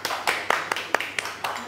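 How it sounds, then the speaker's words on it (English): A small audience applauds a guest at a talk show, a handful of clear claps in an even rhythm close by, brief and fairly quiet. "maybe please give her a round of applause,"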